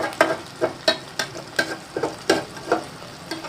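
Tomatoes being fried in a pan for dhaba-style dal mash, a hissing sizzle broken by regular stirring strokes, roughly two or three scrapes per second, close and clear with no voices.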